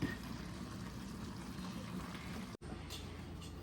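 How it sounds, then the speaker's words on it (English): Raw shrimp going into a simmering pot of shrimp jambalaya, with a steady wet bubbling and liquid churn throughout that drops out abruptly for a moment near the end before resuming more faintly. "Now I'm going to add in my shrimp."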